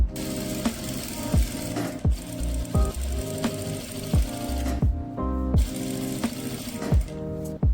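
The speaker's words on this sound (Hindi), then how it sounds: "वैसे ही हमने कंप्लीट कर लेनी है दूसरी सिलाई।" A sewing machine stitching the belt of an Afghani salwar, running in a steady close mechanical rattle with short pauses and restarts between bursts of stitching.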